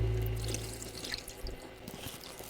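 Aavin milk poured into a container in a home kitchen, a soft liquid splash and trickle running steadily for a couple of seconds at close range with no talk.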